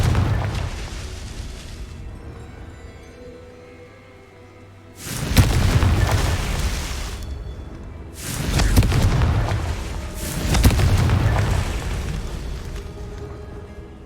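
Confringo spell blasts in Hogwarts Legacy, heard as three loud booming explosions with short rumbling tails, spaced a few seconds apart after a quieter stretch of ambient game sound.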